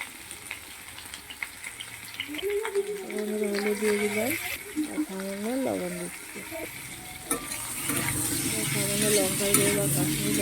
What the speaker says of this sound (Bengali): ভাজছে লাল লাল করে ভেজে এগুলোকে তুলে নেবো